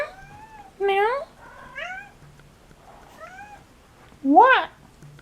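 A male house cat gives four separate rising meows in a quiet indoor room, close and clear, with the last one the loudest and most drawn out.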